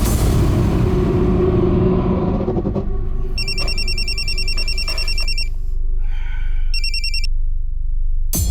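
A telephone rings in bursts of electronic trilling, two separate ringing spells over a low rumbling background, loud and close.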